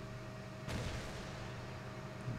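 A Hummel self-propelled artillery gun fires once in World of Tanks, a single distant muffled boom over a steady low in-game drone.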